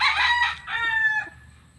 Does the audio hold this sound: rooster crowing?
yes